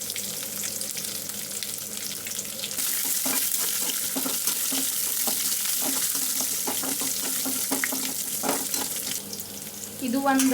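Dry red chilies, chana dal, garlic and green chilies fry in oil with a constant loud hiss and crackle, broken by scraping stirs. A voice speaks briefly.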